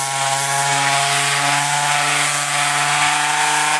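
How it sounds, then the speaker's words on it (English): A power sander works the rusty frame of a Massey Ferguson 245 tractor, giving a continuous loud whirring, grinding drone up close with no pauses. "I've even got the sander out already."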